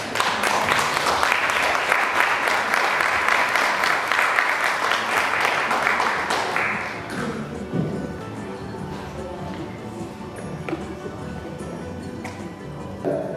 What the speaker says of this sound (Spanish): Un aplauso para recibir aquí a Marta Leiva.